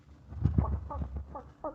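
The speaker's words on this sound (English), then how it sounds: "That's a chicken." A plump hen clucks in a radio drama, giving a run of short, throaty clucks and a few rising squawks at close range over a low background hum.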